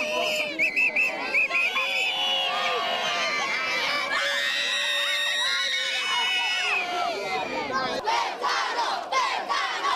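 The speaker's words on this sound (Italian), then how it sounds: "Le grida sono di incitamento sul Fezzano" A large crowd shouts and screams encouragement at a junior rowing race at the Palio del Golfo in La Spezia, a dense, continuous roar of many voices, including high children's cries, loud throughout.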